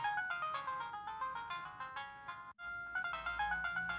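A Nokia 2630 mobile phone plays a polyphonic ringtone melody, a bright, steady run of synthetic tones that breaks off briefly and then resumes, sounding thin and somewhat weak.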